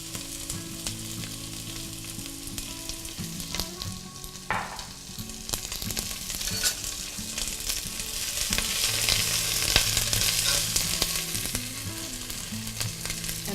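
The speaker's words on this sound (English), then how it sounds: "Then I'm just going to start sauteing the onion" Onion sautéing in olive oil in a pot for cauliflower soup, a steady, close crackling sizzle that swells slightly and carries on without pause, with a few light stirring knocks and no talking.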